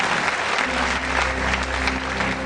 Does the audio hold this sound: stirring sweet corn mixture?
no